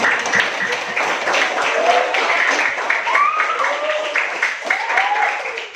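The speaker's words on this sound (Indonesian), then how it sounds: "Beri tepuk tangan dong untuk Raka dan" Classroom of students clapping for two classmates, a steady dense patter of hands with overlapping voices and high-pitched chatter mixed in throughout.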